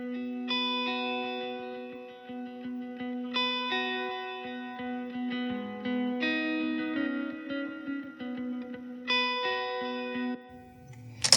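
An electric lead guitar plays a sustained melodic line with chorus and reverb effects, notes ringing and overlapping, ending with a brief scrape of strings.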